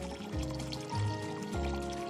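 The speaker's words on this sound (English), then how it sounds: "To dispense boiling water when your safety is on, just press the safety button and depress the red lever at the same time." Boiling water runs from a Zip HydroTap All In One tap in short bursts, a soft close trickle and pour that starts and stops several times at low volume.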